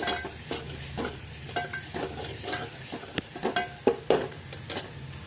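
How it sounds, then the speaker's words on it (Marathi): Ground masala paste sautéing in oil for a tomato saar, a soft steady sizzle punctuated by irregular scraping and stirring clatters from a spoon in the pan. "आपण 1 मिनिट हा मसाला चांगला तेलात परतून घेणार आहोत"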